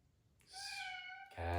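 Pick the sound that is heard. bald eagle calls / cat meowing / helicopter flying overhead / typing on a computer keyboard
cat meowing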